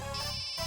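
A mobile phone ringtone repeats in an office setting, a short melodic electronic ring that is clear and fairly close, with no talk over it.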